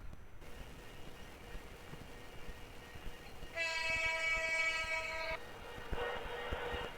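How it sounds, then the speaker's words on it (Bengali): A locomotive engine in the Train Simulator Bangladesh game starts up with a steady mechanical hum, then a loud, sustained horn-like tone blares for nearly two seconds before settling into a brighter running drone. "ইঞ্জিনটিকে অন করি"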